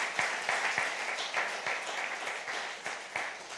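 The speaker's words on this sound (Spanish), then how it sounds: "Denle un aplauso." Faint, brief applause from a church congregation at a Spanish-language service, a steady wash of clapping with a few sharper claps standing out.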